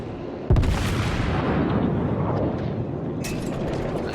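Heavy naval ship guns boom in a World of Warships battle, one loud blast followed by a long rumbling roar and another distant report, with no talking.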